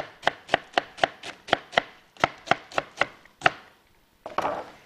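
A knife chopping cabbage on a board, about a dozen crisp, evenly spaced close chops in two quick runs, then a brief pause and a rustle of leaves being gathered.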